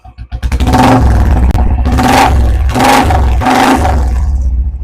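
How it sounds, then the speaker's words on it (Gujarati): A Royal Enfield Classic 350 motorcycle fires up nearby and revs loudly in four strong, rising bursts with a thumping single-cylinder note, then settles back toward idle. "એકદમ જોરદાર ફાયરિંગનું ગાડી ગાડીનું ફાયરિંગ છે મિત્રો સિંગલ સિંગલ ફાયરિંગ થાય છે"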